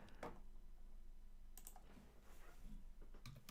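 Typing on a computer keyboard during a live talk stream, with scattered clicks and short bursts of keystrokes, fairly close and moderately quiet, with no talking.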